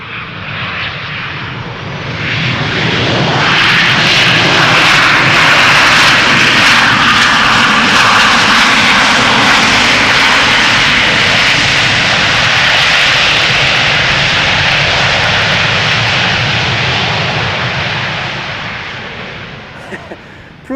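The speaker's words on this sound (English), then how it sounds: "Proof that a 737 can also get just as loud as those heavies can." A Sunwing Boeing 737 flying for TUI arrives at Schiphol from Ibiza, its jet engines building to a loud, broad roar that holds for many seconds as it passes close overhead and then slowly fades.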